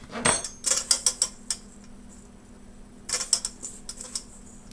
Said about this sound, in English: Just take a knife, just kind of scrape it down like that.